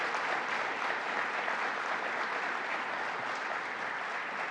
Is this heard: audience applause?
yes